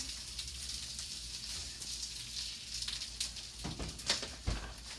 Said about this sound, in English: They are definitely sizzling.